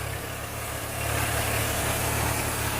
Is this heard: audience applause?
no